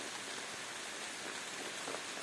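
Steady rain pours down on forest foliage along a Corrèze hiking trail, a dense continuous hiss of drops on leaves heard up close for the whole stretch, with no voices.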